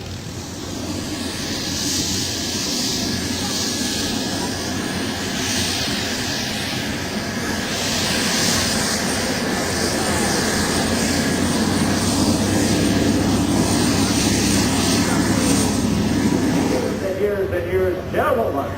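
A Douglas Dakota's aircraft engine drones loudly and continuously at the AirVenture airshow, a steady propeller roar that builds slightly as it nears, with an announcer talking over it.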